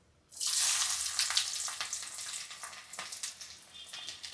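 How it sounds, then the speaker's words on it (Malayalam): Onion dropped into hot oil with mustard seeds in a pan, an abrupt burst of loud sizzling that then settles into a steady, crackling fry, close and without voices. "കടുക് ഇട്ടിട്ട് നമുക്ക് അതിൻ്റെ കൂടെ തന്നെ ഈ ഉള്ളി ഇടാം കേട്ടോ"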